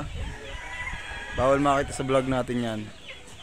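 Chickens cluck and call at a backyard poultry farm, a few bursts of harmonic fowl calls rising mid-clip over steady background noise, with someone speaking briefly near the start.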